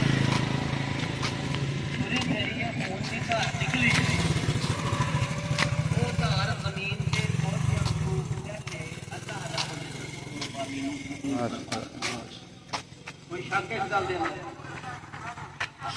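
Motorcycles arriving after Eid al-Adha prayers, several engines idling and revving nearby under a crowd of talking voices, louder early on and thinning toward the end.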